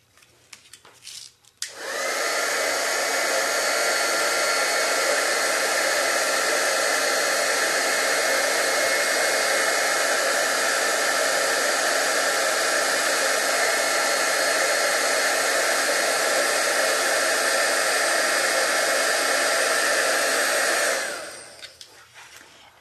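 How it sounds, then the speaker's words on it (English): A craft heat tool blows hot air to melt embossing snowflakes, starting after a few soft clicks and then roaring in a loud, steady whoosh for about twenty seconds before cutting off. "because you are going to hear the heat tool"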